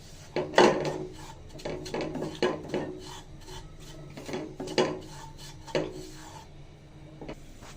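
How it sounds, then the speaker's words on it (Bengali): Rice flour fried in ghee for khirsa is stirred around a pan with a utensil, giving quiet, uneven scraping and rasping strokes at close range with no talk. "চালের গুঁড়াটা ঘিতে ভাজতে ভাজতে কালারটাও চেঞ্জ হয়ে গেছে"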